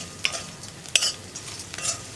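Dried fish is stirred in a pan, producing a few sharp scrapes and spatula clicks over a soft, steady sizzle.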